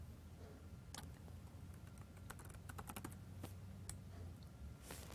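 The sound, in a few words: typing a password on a keyboard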